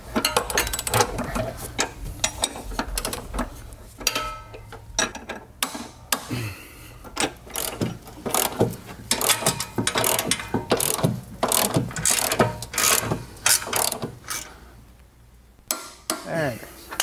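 Ratchet wrench clicks rapidly in bursts while tightening rear subframe bolts on an S550 Mustang, loud and close, with short pauses between runs of ratcheting and a steady hum of garage noise underneath.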